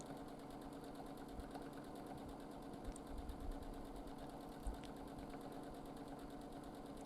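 A home sewing machine runs steadily during free-motion quilting, its needle tapping in a fast, even rhythm at close range with a faint mechanical hum and no talk.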